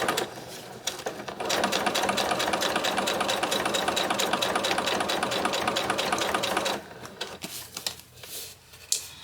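A sewing machine top stitches straight across a bag in one long, steady, close run, then stops and gives way to quieter handling noises.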